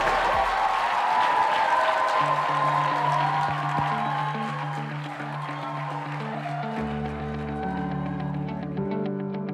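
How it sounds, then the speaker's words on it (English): Crowd applause at a startup pitch event, sustained clapping that fills the room with a slight echo, joined by a sustained musical tone partway through. "A round of applause for P2I"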